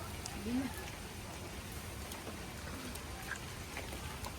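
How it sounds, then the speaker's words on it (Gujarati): Steady rain hiss fills the background, even and continuous, with faint voices somewhere nearby. "ફૂલ વરસાદ આવે છે"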